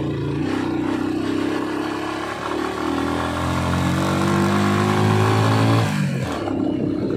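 A motorcycle engine labors loudly and steadily climbing uphill, its pitch slowly rising and rumbling continuously with no talking.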